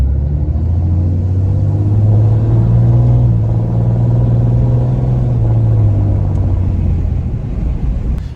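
A 5th Gen Cummins diesel pickup with its exhaust deleted rumbles heavily from inside the cab with the rear window open, a loud, deep, steady drone that swells slightly as it pulls.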